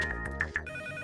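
A telephone rings with short, bright electronic trills, quiet and close, followed by a sustained tone.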